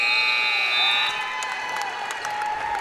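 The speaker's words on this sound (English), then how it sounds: "And the buzzer sounds." The end-of-game buzzer at a girls' varsity high school basketball tournament game sounds in a gym as a sustained electronic tone over a cheering, applauding crowd, with sharp claps and shouts scattered throughout.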